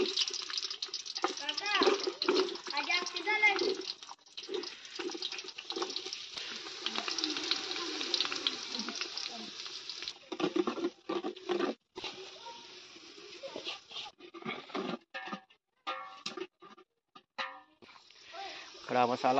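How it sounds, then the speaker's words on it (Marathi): At a waterfall spot, water falls from above under strong pressure, a steady splashing gush that continues throughout while people talk close by. "हे बघा मंडळी किती पाणी प्रेशरनी येते वरून"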